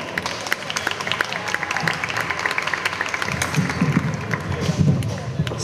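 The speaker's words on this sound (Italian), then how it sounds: "quindi un applauso" A gala audience at a voice academy applauds a debuting singer with moderate, scattered clapping from a room-sized crowd. It stays fairly even, with some bumps and voices mixed in toward the end.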